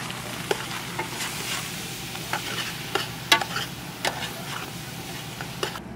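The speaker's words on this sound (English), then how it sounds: "Stir it in, brown it up." Beef browning with bacon and onions in a pan, a steady sizzle broken by repeated scraping stirs of a utensil, close and fairly loud, with no talking.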